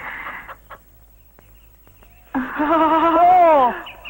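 A chicken lets out a loud, squawking cluck after a short quiet stretch, with faint earlier clucks and scuffling close by.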